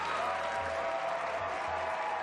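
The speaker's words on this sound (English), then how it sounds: "Give a massive round of applause to your quarterfinal champion for this afternoon" Steady crowd applause, a dense wash of clapping that holds at a constant level throughout with a faint murmur underneath.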